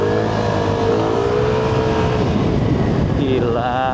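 A Vespa GTS 300 scooter engine revs up loud and close, a steady throaty drone that climbs in pitch near the end, with a voice talking over it.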